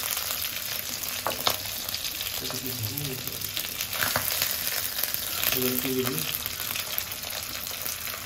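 Ground cumin paste fries in hot oil with a steady, close sizzle, broken by a few soft stirring scrapes.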